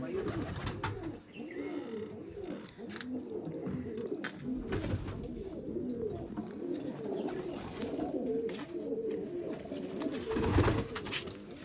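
Pigeons coo continuously in a loft, overlapping rolling calls that keep going at a steady level, with faint background voices.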